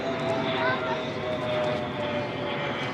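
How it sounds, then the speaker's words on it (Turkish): An airplane's engine roars continuously as it passes overhead in a city park area, a broad steady drone that fills the whole stretch, with faint voices beneath it. "Ha uçak."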